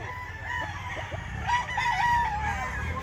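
A rooster crows at a gamefowl expo in Mantalungon, Barili, Cebu, the call rising and wavering through the middle of the moment over a steady murmur of crowd noise and other birds.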